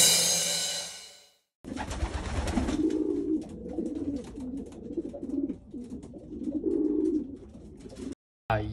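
Pigeons coo steadily in low, throaty murmurs close by, several birds overlapping, after a brief clatter at the start.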